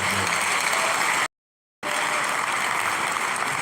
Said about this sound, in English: Please sustain the applause for Mr. Akintunde Sawyer, the MD and CEO of Nelfund.